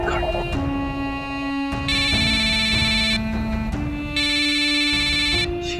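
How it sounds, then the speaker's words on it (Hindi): A phone rings in repeated electronic tone bursts, a melodic ringtone pattern cycling twice, fairly loud and alone without talk. "शीतल प्लीज फोन उठाओ।"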